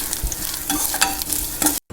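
Grated coconut frying in hot oil with dried red chillies and black peppercorns for a Tamil chicken curry, a steady close sizzle with a few stirring scrapes for under two seconds before it cuts off.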